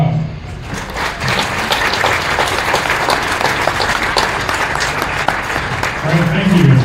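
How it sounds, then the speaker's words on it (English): An audience at a county fair market beef show gives sustained, steady applause, a dense patter of many hands clapping for several seconds with a voice briefly heard at the start. "Give them all one more round of applause."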